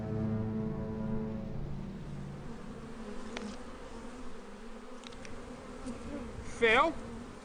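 Honeybees buzzing around an opened hive during biodynamic beekeeping, a steady close drone of many wings, louder at first, with a brief sharp whine near the end as one bee passes by.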